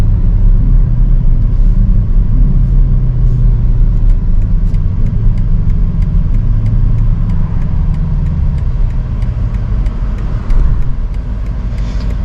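A 2023 BMW XM accelerating down a slight decline, its engine a loud deep rumble rising steadily from inside the cabin, with road noise and no talk.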